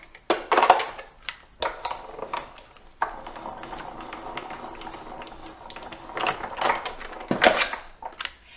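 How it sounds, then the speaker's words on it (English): Paper inside an embossing folder cranked through a die-cutting machine, a rough grinding rumble with clunks and rattles at the start and end, the feed sounding close and steady in the middle. "I'm going to put my paper in between the embossing folder and run this through my machine"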